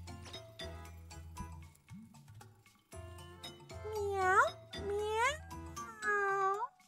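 A cartoonish cat meows in the video game Ar Nosurge, several rising, tonal mews in quick succession over soft game music and chimes.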